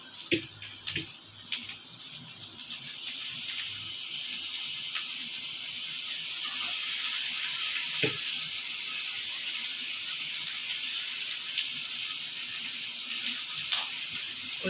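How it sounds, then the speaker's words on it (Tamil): Water poured into a pan of onion-tomato masala cooking in oil for egg gravy, a soft continuous hiss and quiet sizzle with a few faint clinks, fairly low in level and without talk. "கொஞ்சம் தண்ணி விட்டுக்கலாம்"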